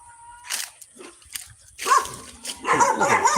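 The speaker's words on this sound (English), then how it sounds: "Oh, these dogs are nasty buggers." Caged guard dogs at a pagoda in a Vietnamese village bark and yap, a few scattered barks at first and then a louder, denser burst from several animals near the end, with some talk underneath.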